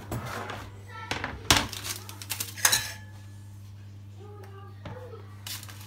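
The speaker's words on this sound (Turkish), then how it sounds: "Şimdi bunu ocaktan alıyorum." A metal pot is lifted off a kitchen stove after simmering, giving a few sharp clanks and clinks against the burner grate, with quieter shuffling handling sounds between them and no talking.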